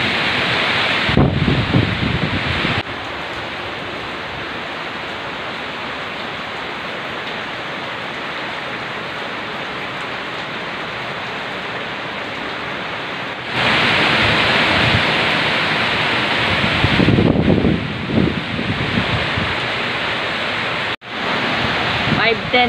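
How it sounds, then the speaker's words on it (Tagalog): Dense, roaring downpour with gusting wind, a steady wash of noise that surges louder in bursts, with low rumbling buffets near the microphone. "Sabay yung ulan at saka hangin."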